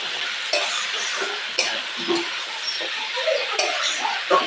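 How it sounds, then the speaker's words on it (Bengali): A chickpea and vegetable curry fries in a pan while a spoon stirs it, giving a steady close sizzle with scraping stir strokes scattered through. "এভাবে মিক্স করে নিচ্ছি সব কিছু ভালো করে ভেজে নিচ্ছি"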